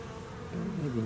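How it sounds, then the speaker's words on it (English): Steady buzzing of guard honeybees at the hive entrance, growing slightly louder and fuller partway through, with several overlapping hums close by. "Some guard bees."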